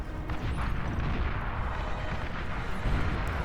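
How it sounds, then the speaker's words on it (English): A long-range plasma cannon fires in a massive hundred-player real-time strategy battle, heard as a dense, continuous rumble of booming blasts and crackling bursts at steady volume. "Is that a long-range plasma cannon?"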